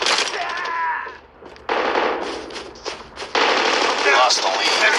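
Rapid automatic gunfire and bursts of shots fill a Call of Duty match on the Nuketown map, loud and near, briefly dropping off before resuming in dense volleys, with game effects and players talking underneath.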